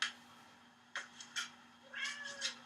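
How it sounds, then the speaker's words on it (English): A cat meows several times, a short cry followed by a longer drawn-out meow, fairly faint and nearby, with no talking. "Can you hear her meowing?"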